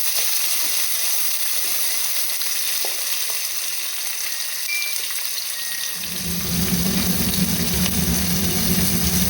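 Onions and curry leaves frying in a pan give a steady, even hiss of sizzling oil that turns louder and fuller toward the end.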